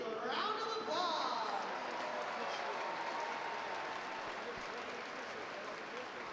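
Crowd at a high school state individual wrestling tournament applauds the officials, a broad steady wash of clapping filling the arena throughout, with a few voices calling out early on.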